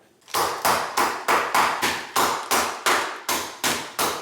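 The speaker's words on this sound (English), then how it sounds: "I have an ice cream scoop, so I'm just gonna bash the crap out of it." A dozen sharp, heavy metallic whacks of an ice cream scoop bashing dry ice land in a steady, rapid rhythm, each loud strike fading quickly before the next, with no talking.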